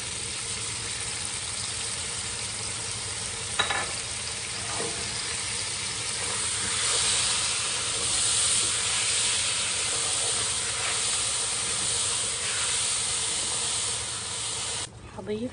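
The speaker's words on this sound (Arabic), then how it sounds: "بعد ما اتغير لون الدجاج حضيف عصير الطماطم." Tomato juice pouring into chicken frying in a pan and being stirred, with a loud, steady sizzle and hiss throughout and a few brief clatters of the stirring utensil against the pan.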